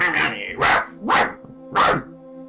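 A person imitates a dog barking while playing EarthBound, with four loud, separate vocal barks spaced about half a second apart and nothing else in between.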